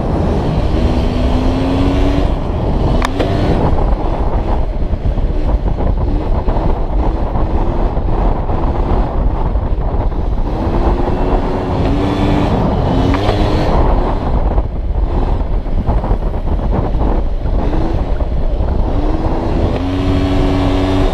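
A motorcycle rides a sustained wheelie, its engine droning loud and steady with rising and falling pitch as the throttle is worked, heavy wind buffeting the microphone throughout.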